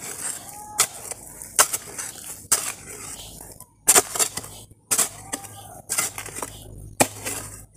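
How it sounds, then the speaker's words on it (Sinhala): A metal hoe chops into soil to dig a hole for planting a banana plant, with about eight sharp, clinking impacts at an irregular, unhurried pace, close and distinct against a quiet background. "ඔන්න ටීචර් උදැල්ලක් අරගෙන මෙන්න මෙහෙම වලක් කපනවා"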